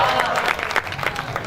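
An audience at a comic poetry gathering at a temple in Dewas bursts into applause, a dense, loud burst of clapping that lasts only a moment.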